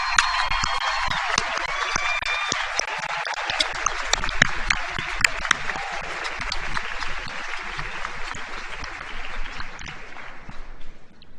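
A high school graduation crowd gives the Santa Maria High School faculty a sustained round of applause, dense steady clapping filling a large space before tapering off at the end.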